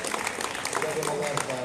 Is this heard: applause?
yes